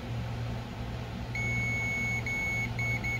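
A multimeter's continuity beep sounds during a keyboard build, as a steady high tone that cuts out briefly and then repeats in short on-off pulses over a quiet hum.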